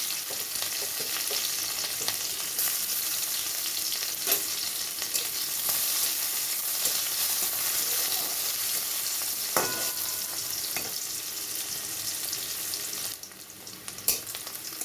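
Chopped onion and green chili with panch phoron frying in hot mustard oil in a wok, a steady, close, hissing sizzle with a few sharp stirring scrapes and clicks, no voices.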